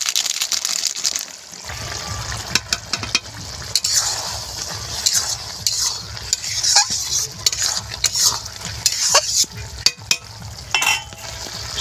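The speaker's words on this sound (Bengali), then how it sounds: "এবার একটু নাড়াচাড়া দিয়ে নামিয়ে নেব।" Okra with prawns and garam masala fry in a pan while a utensil stirs it, giving continuous close sizzling broken by frequent scraping and clinking against the pan.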